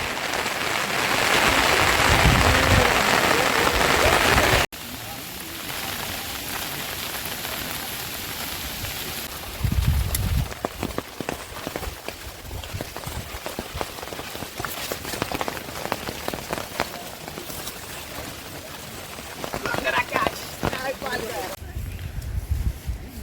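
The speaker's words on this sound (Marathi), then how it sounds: "इथे चांगलाच पाऊस आलेला आहे" Heavy rain pours steadily during a monsoon trek to Mahimatgad fort in Ratnagiri, Konkan, a dense hiss broken by gusts of wind and louder bursts, with people talking over it.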